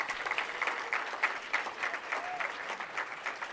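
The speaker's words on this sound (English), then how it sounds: "Give a round of applause for yourselves." A crowd applauds graduates at a 2017 Black graduation celebration: dense, sustained clapping that stays fairly even and moderately soft, as if heard from a little distance, with no speech over it.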